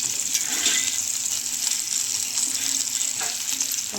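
Restaurant-style paneer 65 fries and roasts in a pan, a steady bright sizzle with soft crackles and occasional stirring scrapes, fairly quiet and continuous.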